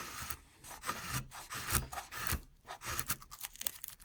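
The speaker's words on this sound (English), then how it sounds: "Let's try a little bit of wood" A Buck LUX 816 knife blade rubs and scrapes through a piece of wood in close, repeated rasping strokes. The rhythm is uneven and continuous, with no talking.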